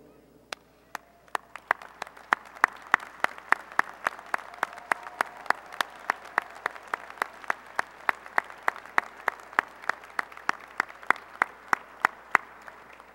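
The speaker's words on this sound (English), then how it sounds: "our graduates will rise and applaud you for your support of them" Graduates at a college commencement ceremony stand and applaud their families in a big hall, with a few loud, evenly spaced claps standing out sharply over the softer crowd clapping.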